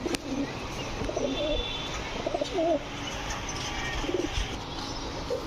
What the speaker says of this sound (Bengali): এখন দেখাবো ইন্ডিয়ান কালদম, একদম ক্রিম চোখের কবুতর